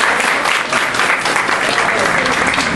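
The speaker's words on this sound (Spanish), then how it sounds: "por favor, un aplauso para ella." A school-play audience claps for an actress: thick, continuous applause from many people, loud and steady throughout, with murmured voices blended in.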